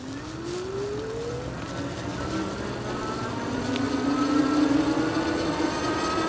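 Eskute Netuno electric bike pulls away uphill on throttle, a quiet motor whine rising steadily in pitch under heavy wind rush, growing slightly louder as speed builds.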